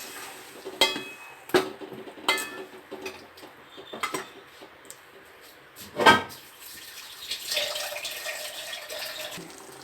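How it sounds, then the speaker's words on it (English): Two cups of water splash and trickle into a pan of bottle gourd sambhar, mixed with clinks of utensils against the pot and a louder pouring gush midway, fairly close. "Add 2 cups of water."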